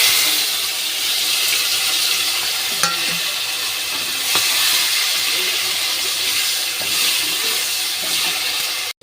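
Tomato hits hot oil with nigella seeds in a kadai where fish were just fried, setting off a loud, steady sizzle with occasional clicks of stirring, no one talking.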